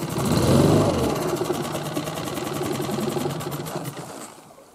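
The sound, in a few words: motorboat outboard engine running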